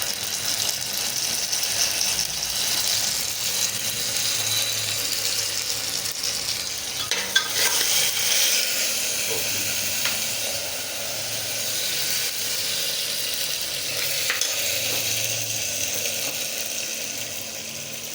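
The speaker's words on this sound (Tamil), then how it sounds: "ஏன்னா இஞ்சியில் வந்து தண்ணி இருக்கிறதுனால அது தெரிக்குது." Steady hissing sizzle of ginger garlic paste frying in hot oil, with occasional sharp spattering pops as the ginger's water spatters, close and continuous without speech.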